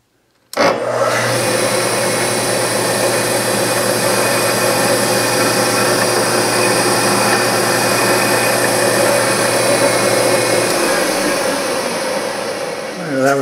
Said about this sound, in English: I've slowed the mill down such that we're going to ream at